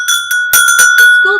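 A small bell rings in an office beside a little angel figure, several short bright strikes with a sustained clear tone, fairly close and alone with no talking.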